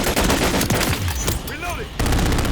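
Rapid automatic gunfire from a Call of Duty Modern Warfare 3 match, a dense burst of shots that thins briefly midway before resuming loud and close.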